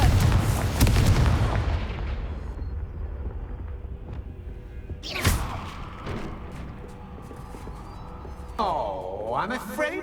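Fiery Confringo spell blasts from Hogwarts Legacy burst out as loud booming explosions, one heavy hit up front and further sharp blasts with sweeping magical whooshes later, mixed with game effects and voices.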